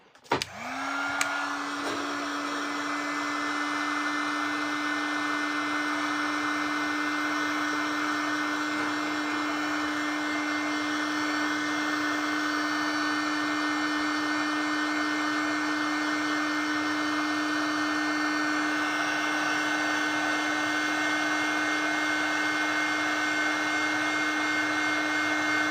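A hair dryer blows steadily on a watercolor painting, a loud continuous whir that holds at an even pitch for the whole stretch with no talking.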